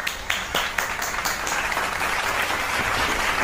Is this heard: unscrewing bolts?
no